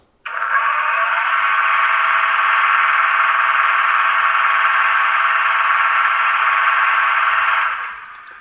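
A steady, loud mechanical whirring compressor sound effect from a Märklin 49571 H0 model steam crane runs continuously for about eight seconds, then winds down at the end.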